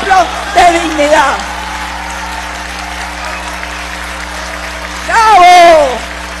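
Deputies in Venezuela's National Assembly applaud during a session honoring a 90-year-old member, a soft, even wash of clapping in the middle, framed by voices speaking at the start and end over a steady room hum.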